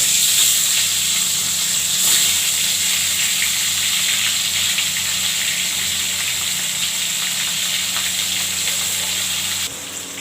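Pieces of boal fish frying in hot oil, a loud steady sizzle and hiss that runs continuously, close up, then drops off slightly near the end.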